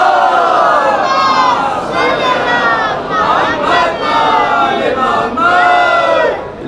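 A large crowd at a religious gathering loudly chants salawat together, with rising and falling massed voices in waves that fill the space continuously for several seconds.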